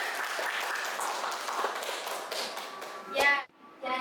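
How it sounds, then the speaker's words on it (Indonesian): Classmates clap for a student in a classroom, a dense, steady patter of applause that swells briefly near the end before cutting off, with a voice heard over it. "Mari kita berikan tepuk tangan"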